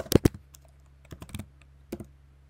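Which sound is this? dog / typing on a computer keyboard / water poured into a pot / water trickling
typing on a computer keyboard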